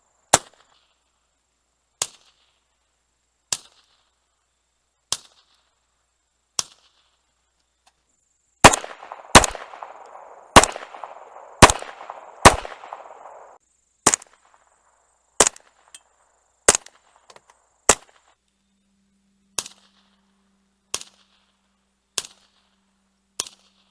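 Suppressed .22 rifle fired with an Anechoic X22 silencer and CCI standard velocity ammunition gives around twenty sharp, close reports, some spaced evenly, others in quick bursts trailed by brief mechanical rattles.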